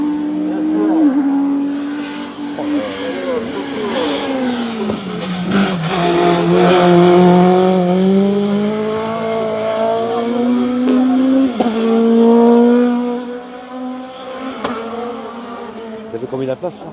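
Renault Clio race car at the 46th Pourville-sur-Mer hillclimb, engine revving up and down through gears in a loud, sustained pass, with tire noise and people talking over it.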